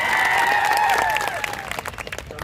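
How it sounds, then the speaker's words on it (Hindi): Loud crowd applause and cheering at an outdoor rally for World Indigenous Day in Banswara, with a voice sustained over the clapping at first before it settles into steady dense applause. "एक बार जोरदार आपके लिए तालियां बजा दी जाए।"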